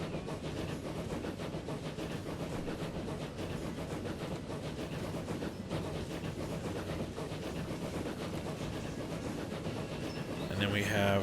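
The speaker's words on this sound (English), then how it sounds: "here is the new Crampton engine locomotives" A Crampton steam locomotive in the game Transport Fever runs with a steady rumble, rhythmic rail clatter and a faint hiss, continuous and moderately quiet throughout.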